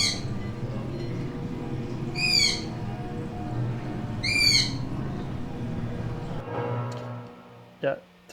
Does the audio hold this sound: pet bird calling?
yes